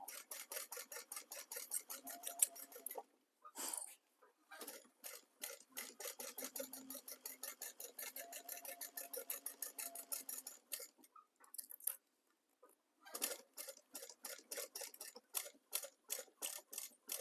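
Sewing machine top stitching a bag panel, close and fairly quiet, its rapid even ticking running in long bursts with a couple of short pauses and a final restart.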